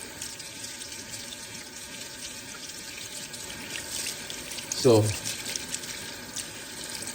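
Tap water runs through rice being rinsed for Mexican rice, a steady wash of flow with a brief louder splash near the end and a voice speaking briefly.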